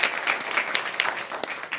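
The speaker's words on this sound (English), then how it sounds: "give him a round of applause." Steady applause from an audience at a Nation of Islam town hall meeting, dense clapping throughout with a few louder claps standing out, no voices.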